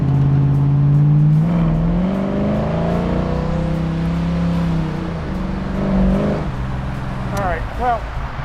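A 1969 Camaro with an automatic transmission and its lower-horsepower engine pulls away hard from first gear, a loud, steady engine drone rising and shifting in pitch over several seconds, with a brief chirpy squeal near the end.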